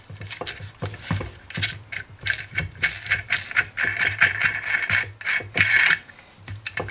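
A 17 mm wrench works a nut on the air filter housing of a UAZ Buchanka van, giving close metallic clicks, rattles and scraping in uneven bursts with no speech.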